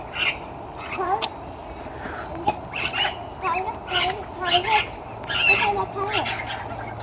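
Parrots at a nature centre squawk and call over and over at middle distance. The harsh cries come in irregular bursts over a busy background while people talk nearby.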